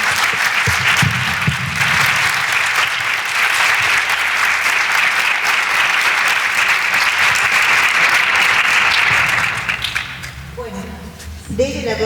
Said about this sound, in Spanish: le damos otro aplauso